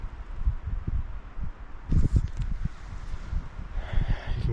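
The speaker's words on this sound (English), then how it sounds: "You can kind of hear the wind" Wind rustling through the trees of Maine's north woods during a deer hunt, a soft broad rushing with gusts, mixed with nearby thumps and crunches from movement close to the microphone.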